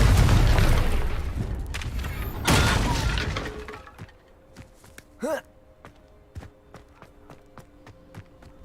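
A Confringo blasting spell bursts in Hogwarts Legacy with a loud crackling explosion and a second burst, then fades into scattered small impacts, clicks and a brief whooshing cast.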